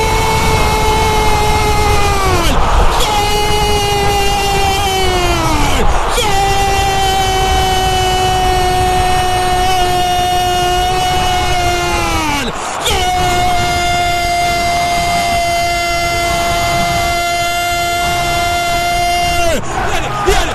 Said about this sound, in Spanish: es el grito ronco aquí en el Gran Parque Central